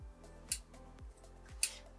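Small stationery scissors snip quietly close by, with two crisp cuts about a second apart over a faint background of soft ticking and handling noise.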